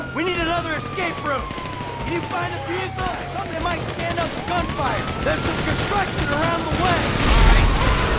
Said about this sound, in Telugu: ఎంత కాల్చినా పోలీసు వాళ్ళు ఇంకా వస్తూనే ఉన్నారు.